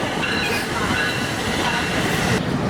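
A train roars close by with steady rumbling and a hint of rattling wheels, loud and continuous.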